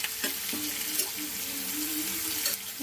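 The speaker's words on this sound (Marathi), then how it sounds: "हे आपल्याला बारीक आचेवरती छान फ्राय करून घ्यायचं आहे" Curry leaves and coriander crackle in hot oil on a low flame, a steady close sizzle with occasional stirring clinks and sputters and no voices.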